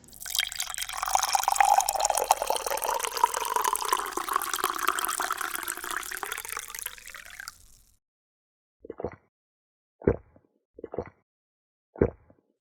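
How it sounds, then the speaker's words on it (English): Hot coffee poured from an old thermos into a mug at a counter, a steady liquid stream lasting several seconds, then a handful of short separate drips or clinks in the quiet that follows. "Kaneki pours a hot mug of coffee from his old thermos"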